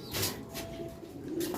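Racing pigeons coo softly during a derby, a few low murmuring calls close by over faint background hiss.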